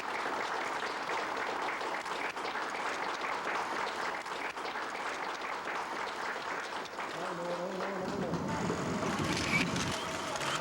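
Korean and Chinese officials at a 1992 diplomatic treaty signing break into vigorous, sustained applause, heard at moderate distance alongside room murmur and background sounds.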